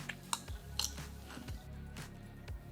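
Someone chews crunchy Lay's white cheddar potato chips, making quiet, close crackling crunches in an irregular rhythm with no talking.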